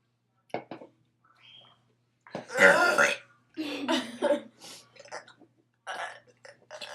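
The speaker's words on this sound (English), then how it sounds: "I can burp on command." Several burps produced on command in a burping contest, a long loud belch followed by shorter gulping burps and throat sounds, close and mostly alone with a few brief vocal noises between.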